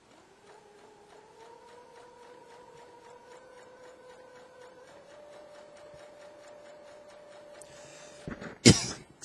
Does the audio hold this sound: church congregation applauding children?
no